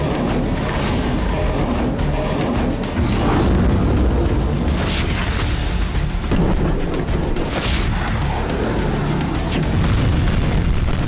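Russian rocket strikes hit Kharkiv at night, a loud, dense roar of booms and blasts with sharper bursts rising out of a constant rumble.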